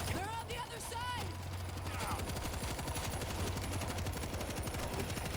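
A mounted gun in the zombie video game World War Z fires in rapid, continuous bursts, loud and close. Brief talk sits over the opening moments.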